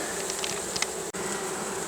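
Honey bees hum at an open hive during preparations for the honey harvest, a dense, continuous swarm buzz close by with no voices.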